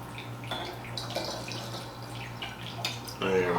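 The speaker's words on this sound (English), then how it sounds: "I always do a 2-ounce pour into the infinity bottle." Whiskey, a Michter's straight rye, trickles into a bottle in a faint, steady liquid pour with low background hum and a louder splash near the end.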